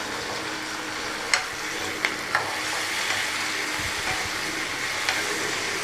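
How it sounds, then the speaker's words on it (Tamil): Tomatoes and onions sautéing in a pan while cooking Tamil kalani pulicharu, a steady low sizzle with a few sharp clicks of a stirring spoon against the pan, no voices. "இதுவும் இப்போ நல்லா வதங்கட்டும்."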